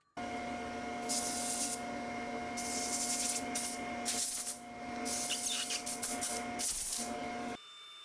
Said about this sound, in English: when it comes to sanding, power sanding, as opposed to just sanding by hand, again, on the inside of the bowl